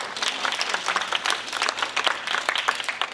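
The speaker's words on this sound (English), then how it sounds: "Give Connie another round of applause." Crowd at a book signing giving a round of applause, dense pulsing clapping from many people nearby, steady throughout.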